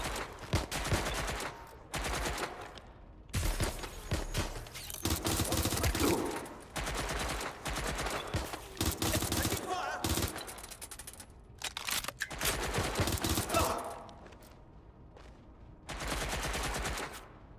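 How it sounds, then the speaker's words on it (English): Bursts of gunfire in the video game Watch Dogs: Legion come as rapid automatic volleys and scattered single shots, loud and close, separated by brief pauses across the whole stretch. "They're shooting at us!"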